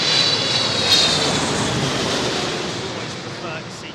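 Airbus A380 airliner jet engines roaring on landing approach, a broad loud rush heard from a distance that slowly fades, with wind noise.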